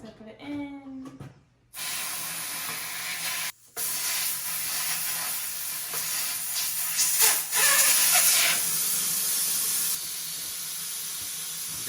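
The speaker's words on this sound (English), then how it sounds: "you gotta take it back out to let the air out because it's overinflated now" Air rushing out of an overinflated tire through the valve, a loud, continuous hiss lasting several seconds with one brief break, after a short moment of talking at the start.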